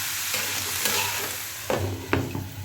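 Potatoes and cabbage frying together in a pan, a steady soft sizzle with a few louder scraping stirs near the end, no talking.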